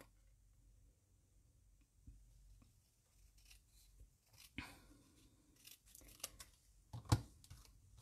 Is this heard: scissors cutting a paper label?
yes